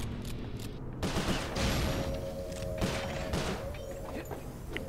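Gunfire in the video game Sly 4 on PS3, a burst of rapid shots and thuds over continuous game background noise, fairly muffled and mid-distance.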